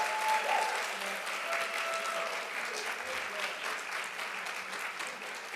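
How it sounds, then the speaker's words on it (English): A round of applause from the audience at a short-film finalist screening, soft steady clapping across the whole stretch with a faint tone in the background. "Everybody give them a big round of applause."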